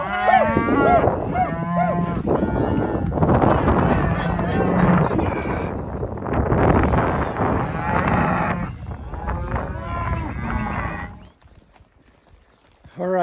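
Several cows moo loudly and repeatedly, overlapping calls close by in a pasture, with hoof shuffling and a voice talking among them.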